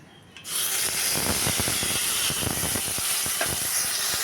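Bay leaf and whole cumin seeds fry in hot oil for a vegetarian curry: after a brief quiet start, a loud, steady sizzling hiss sets in, with dense crackling pops throughout.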